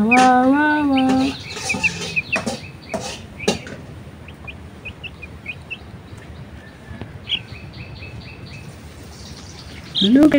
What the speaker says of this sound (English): Look at the very beautiful chicken!